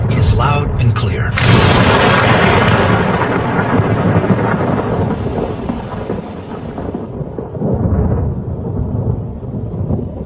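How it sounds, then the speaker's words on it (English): Loud thunder crashes and rolls in a thunderstorm over the Okavango, a long rumbling boom fading into steady rain noise, with a voice speaking over it. "Each day, thunderstorms break overhead."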